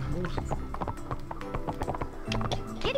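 A horse gallops in Barbie Horse Adventures: Wild Horse Rescue, its hooves clip-clopping in a quick, steady rhythm under game music while someone talks over it.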